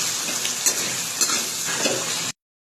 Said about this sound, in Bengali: এখানে আদা রসুনটা মোটামুটি ভাজা ভাজা হয়ে এসেছে